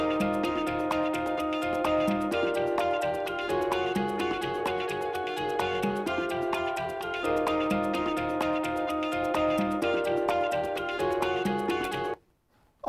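A pitched-up guitar loop, retuned to the song's key, plays a steady four-chord pattern with layered effects and atmosphere, loud and continuous for about twelve seconds before cutting off abruptly.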